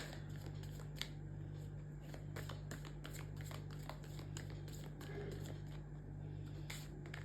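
Tarot cards being pulled and shuffled from a deck, a run of soft rapid slaps and flicks against steady low background noise, close and fairly quiet.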